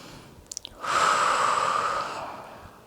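One deep breath during partner yoga: a couple of soft clicks, then a long, close, airy exhale that swells and slowly fades out.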